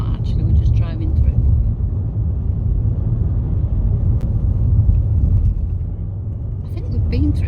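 A car drives through Thurso town centre in northern Scotland, its engine and road rumble steady and close throughout, with faint traffic noise around it.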